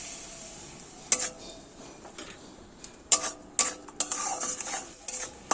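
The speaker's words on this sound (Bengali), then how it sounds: "এইভাবে কিছুক্ষণ ধরে মশলাটাকে মিডিয়াম ফ্লেমে কষিয়ে নেব।" A spoon works soybean-curry spice masala with cumin powder, sour curd and a little water in a pan over medium flame. Faint sparse clinks and scrapes rise over a soft background, getting busier toward the end, with no talking.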